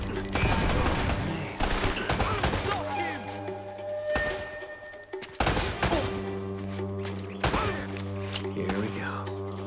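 Gunfire in the action game Uncharted: Drake's Fortune: loud bursts of rifle and machine-gun fire with heavy thuds and booming blasts, coming in clustered volleys across the whole stretch.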